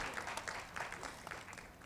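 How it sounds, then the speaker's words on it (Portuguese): Audience at an internet policy forum applauds, a faint, scattered patter of hands clapping that thins toward the end. "Pode aplaudir, gente."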